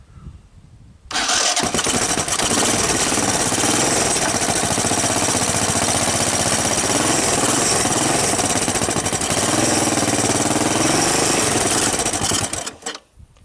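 A Honda ATC200E ATV with a brand new carburetor and the choke on fires up after a second and settles into a loud, continuous, buzzing single-cylinder run, close by, before cutting off near the end.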